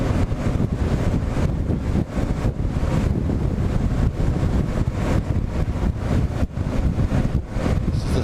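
Strong gusting wind buffets a rider on a KLR650 motorcycle crossing a bridge in Duluth, Minnesota, a loud continuous roar of wind noise hitting the microphone with no speech.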